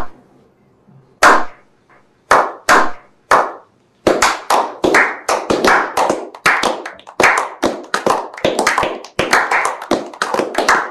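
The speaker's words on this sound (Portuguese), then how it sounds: "se o editor quiser botar palmas agora para mim" Studio-style applause sound effect inserted into a Portuguese essay-writing lesson, starting with a few separate loud claps and building into dense, continuous clapping that carries on steadily to the end with no talk over it.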